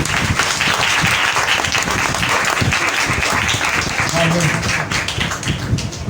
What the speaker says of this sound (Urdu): زوردار تالیاں بجائیں۔